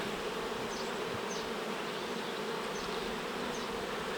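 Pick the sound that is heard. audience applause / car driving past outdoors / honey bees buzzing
honey bees buzzing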